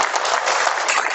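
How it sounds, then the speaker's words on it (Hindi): An audience claps loudly and densely at a carrom academy prize distribution, a brief continuous burst of many hands heard up close. "जोरदार तालियां हो जाए ताबिश साहब के लिए"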